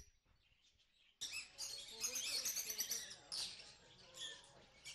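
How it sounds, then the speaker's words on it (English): Small birds chirp and twitter in a pet store aviary, a busy cluster of high, bright calls starting suddenly after a quiet moment and continuing close by. "This is the aviary. This is where we keep birds that are smaller birds."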